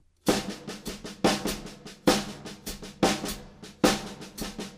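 Solo drum kit playing a slow pattern of strong accented snare hits over steady hi-hat strokes, each hit ringing briefly before the next.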